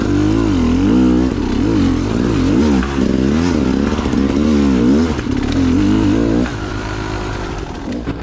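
A dirt bike engine revs loudly on a park trail at Clough State Park, its pitch rising and falling as the throttle is worked, close and continuous, with a voice talking over it.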